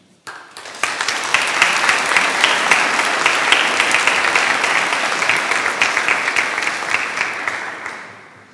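A concert audience at an Advent concert in Leipzig-Mitte breaks into sustained, loud applause of many hands clapping, holding steady for several seconds before tapering off at the end.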